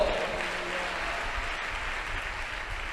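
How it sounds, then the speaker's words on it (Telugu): A church congregation claps together in a dense burst of applause that is loudest at the start and then holds steady at a softer, even level for about three seconds. "కొట్టాలి చప్పట్లో."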